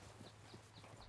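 Horse hooves clip-clop faintly in a steady, quick rhythm as a rider travels with two horses in the game Red Dead Redemption 2, set against a dense background hum with no talk.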